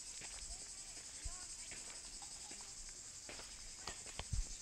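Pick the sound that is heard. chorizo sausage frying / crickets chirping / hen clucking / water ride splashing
crickets chirping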